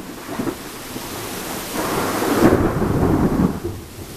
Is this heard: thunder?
yes